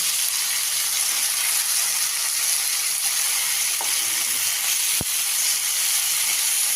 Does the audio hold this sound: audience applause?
no